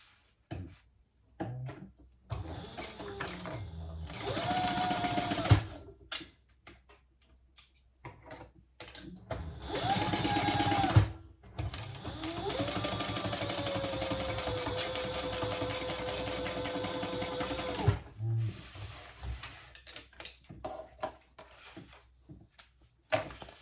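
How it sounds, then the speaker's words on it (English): Sewing machine stitching a zipper pocket onto a fabric wristlet, with several bursts of rapid mechanical whirring and needle chatter, the longest running about seven seconds, separated by quiet pauses and small handling noises. "make sure your zipper pocket is caught in there as you sew this on."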